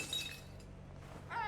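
Glass bottle shattering in the video game We Happy Few, a short crash with bright breaking-glass splinters at the start and a second clatter near the end over steady game ambience.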